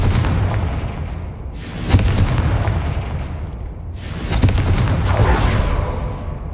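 Two booming blasts from the Confringo explosion spell in Hogwarts Legacy, each a loud, close burst that fades into a long rumbling tail.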